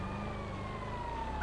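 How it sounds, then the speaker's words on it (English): Ambulance siren in the GTA video game, a faint, steady wail sounding some distance away under low background hum. "I'm hearing like an ambulance, but where is it?"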